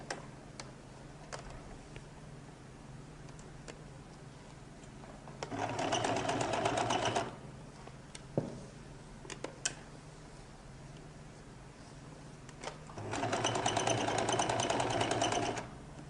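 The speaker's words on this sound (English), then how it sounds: "So I'm sewing" Two runs of a sewing machine stitching a lady's jacket, each a dense mechanical whir lasting about two seconds, close up. Quiet ticks and handling sounds fill the gaps between the runs.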